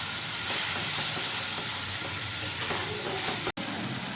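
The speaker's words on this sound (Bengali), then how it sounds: "এবার আমি যে টমেটো কাজু বাদামের পেস্টটা বানিয়েছিলাম সেটা আমি এখন এর মধ্যে দিয়ে দিচ্ছি।" Tomato and cashew paste goes into a hot pan with spices and is stirred in, giving a steady loud sizzle and hiss with soft scraping and stirring underneath.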